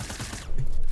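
Rapid gunfire aimed at the player in an arena shooter game, a brief burst of quick shots that grows denser and louder in the second half, close and harsh.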